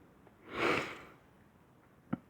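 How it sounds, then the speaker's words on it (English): One soft nasal sniffle from someone coming down with a cold rises and falls within half a second, followed by a brief faint click, with quiet around it. "I apologize for the sniffles"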